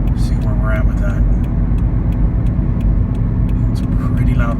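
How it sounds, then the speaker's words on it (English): Loud, steady low-frequency tire roar fills the cabin of a moving 2013 Toyota Corolla, a constant drone with some faint higher clatter over it. "It's a pretty loud roar. Feels like it's coming from the center of the car"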